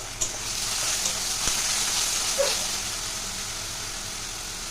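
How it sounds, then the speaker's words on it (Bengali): Green chillies frying for a tadka in a pan give a soft, steady sizzling hiss that runs throughout at low volume, with no talking. "তো এটাকে আমি এবার ভালো করে ভেজে নেব।"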